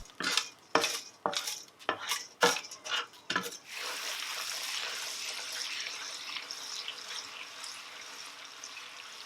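Sugar stir-fried with water and oil in an iron wok: a spatula strikes the metal in a quick run of sharp clanks, then gives way to a steady close hiss of bubbling syrup, with no voices.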